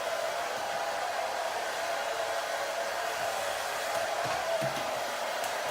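A hair dryer blows steadily on curly hair, a continuous close whoosh of air with a faint tonal hum running unbroken throughout, with no voices.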